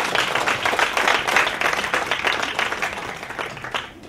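A crowd applauds at a team presentation event, dense steady clapping filling the whole stretch before easing off at the end, with no talk over it.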